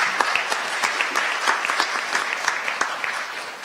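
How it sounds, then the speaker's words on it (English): Audience applause at a Hamilton mayoral candidates debate: a steady wash of many hands clapping in a hall, fairly close and continuous, with sharper individual claps standing out and no talk over it. "Round of applause for you, Jess."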